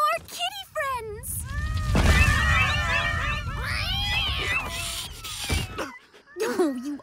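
Several cartoon cats meow in a Teen Titans Go! episode, a string of high, sliding mews overlapping one another, close and fairly loud, with a brief swell of background noise in the middle.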